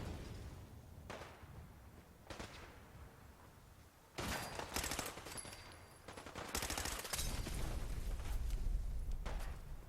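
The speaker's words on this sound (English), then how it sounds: "Where is he shooting from?" Enemy gunfire in Fallout 4, scattered shots early on, then dense machine-gun bursts growing louder and more continuous toward the end, with no talking.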